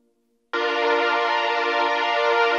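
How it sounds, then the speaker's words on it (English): Simple sawtooth synth shaped with heavy EQ, chopping and LFO for a string and horn part: a faint low tone, then a buzzy, bright sustained chord that enters abruptly and holds steadily. "this is just a simple sawtooth with a lot of EQ to it"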